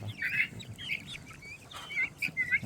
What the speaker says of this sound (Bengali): সবগুলা একখানে হইতাছে এবং ডাকতেছে, একজন আরেকজনকে ডাকতেছে, চিল্লাতেছে